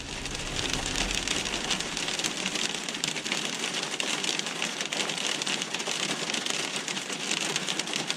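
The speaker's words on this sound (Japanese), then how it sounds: "あられ降ってんですけど" Dense, steady pattering of small hail pellets striking a surface at Lake Hibara, Ura-Bandai, continuous and fairly close throughout, with no voices.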